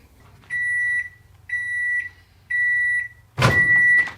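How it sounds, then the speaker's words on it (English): A microwave oven heating fried rice gives three evenly spaced long beeps followed by a fourth beep with a clunk as the door opens, loud and close over a low hum. "let's get this in the microwave for 90 seconds and see how things turn out"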